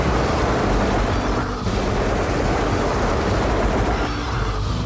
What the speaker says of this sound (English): Some of those Xenomorphs are still alive out there, so let's start shooting them. With the sentry guns again.